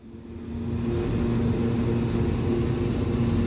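Lancair Evolution turboprop engine in X-Plane 12 spooling up under smoothly applied throttle, a steady droning whine that swells over the first half second and then holds loud and even.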